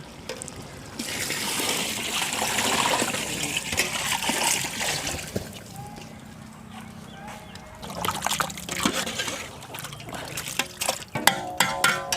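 Water splashes and trickles steadily into a large pot of basmati rice for chicken biryani, a loud rushing pour that eases off, followed by a few clinks and knocks of cookware.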